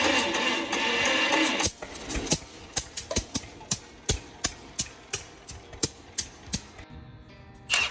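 A 50-year-old John Deere tractor engine being choked and given a little throttle: a steady running roar first, then a string of sharp, evenly spaced pops and knocks as it fires unevenly, close and fairly loud.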